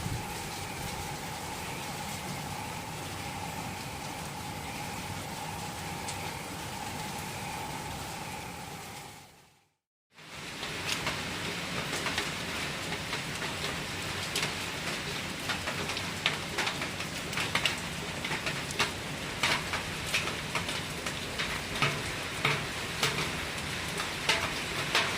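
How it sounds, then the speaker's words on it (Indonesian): Steady, heavy rain pours down continuously in Hong Kong, a dense hiss of drops on surfaces broken by one brief moment of silence before resuming just as loud. "Hongkong lagi diguyur hujan teman-teman."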